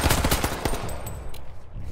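Rapid volley of pistol gunshots in the survival shooter H1Z1, loud and close, cracking out in a quick irregular burst across the opening second and then trailing into scattered reports and noise.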